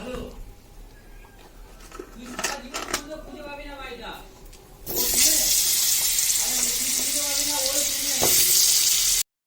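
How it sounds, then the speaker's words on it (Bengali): Someone speaks over a quiet kitchen, then potatoes go into hot oil in a wok and a loud, dense sizzle erupts and holds steady up close, with her voice returning faintly beneath it. "এবার আমি আলুগুলো ভেজে নেব।"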